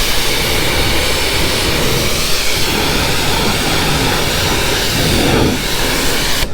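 Pressurized water spray rinses a car's painted surface, a dense, steady broadband hiss that stays loud and constant with a slight swell near the end.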